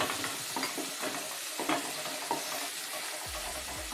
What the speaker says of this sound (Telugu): ఈ ఉల్లిగడ్డ మిర్చి వేసుకున్నాం కదా, కొంచెం ఫ్రై చేసుకోవాలండి.